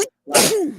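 A single loud, close sneeze bursts out after a brief pause, sharp at the start and trailing off, with no talk over it.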